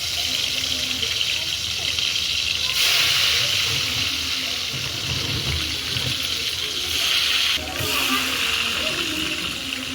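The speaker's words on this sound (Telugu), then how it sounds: "నూనె కాగింది. ఫస్ట్ కాకరకాయ ముక్కలు వేయించుకున్నాం." Bitter gourd pieces fry in hot oil in a pan over a wood stove with a steady, dense sizzling hiss that swells slightly twice. A voice seems to speak faintly underneath.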